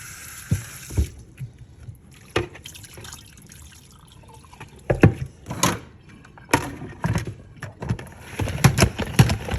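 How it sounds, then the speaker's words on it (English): Mullein roots rinsed under running water in a salad spinner, with scattered splashes and drips arriving in irregular bursts that grow busier toward the end, close and fairly quiet. "now I'm just gonna rinse them off real good in my salad spinner"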